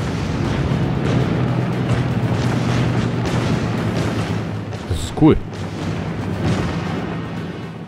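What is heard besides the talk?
cannon firing in the video game Paper Mario The Origami King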